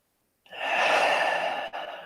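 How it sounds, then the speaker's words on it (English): A person lets out a slow, deep breath as part of a breathing exercise: a single long, airy exhale up close that starts abruptly and trails off, with a brief catch near the end. "Let's take 3 breaths here."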